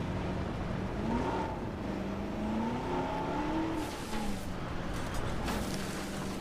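A ranger vehicle drives in the Jurassic World Evolution video game, its engine giving a steady, moderately loud hum whose pitch glides up and down as it moves, with no talk over it.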